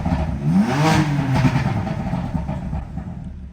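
BMW F8x M car on stock exhaust with catless downpipes, revving hard in a couple of rising and falling blips, loud and close, then settling into a rough idle with no talking.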